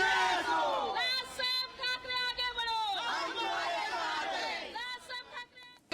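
MNS workers celebrate outside Sadavarte's house as a crowd shouts slogans together in loud, rhythmic chanted bursts, with overlapping voices and excited cheering.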